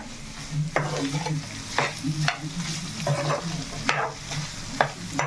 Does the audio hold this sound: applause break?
no